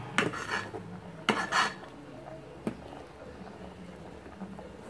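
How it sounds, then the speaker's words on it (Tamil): A pot of boiling sambar with jaggery just added is stirred with a spoon, giving a few clinking metal scrapes and knocks against the pot over a soft cooking background, with no talk. "ஒரு தடவை நல்லா கலக்கி விட்டுக்கோங்க"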